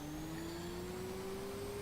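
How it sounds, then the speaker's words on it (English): Speedboat engine in Stormworks running at a steady, slowly rising pitch, a smooth motor hum with a faint higher whine, quiet and unbroken throughout. "So let me actually turn on the fucking engine"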